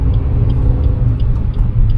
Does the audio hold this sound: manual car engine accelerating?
yes